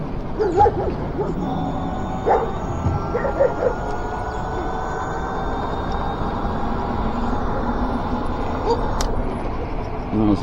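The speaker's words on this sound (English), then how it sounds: "Dogs in their run spot" Dogs in their run let out scattered yips and barks over a steady hum and rumble of motion, a few sharp calls standing out near the start and end, with some talk mixed in.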